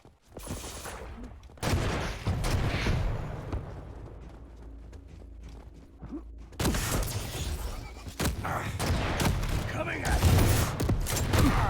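Rapid weapon fire in a Quake duel, with shotgun blasts, rockets and lightning-gun bursts. The shots come in dense, punchy volleys separated by a quieter stretch, under a commentator speaking throughout.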